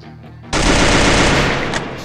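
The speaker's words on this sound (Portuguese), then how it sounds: "vou dar um tiro aqui no aberto pra vocês verem a velocidade que é essa Scar" A SCAR rifle in a shooter video game opens fire in a loud, rapid automatic burst after half a second of quiet, sustained and close until the clip ends.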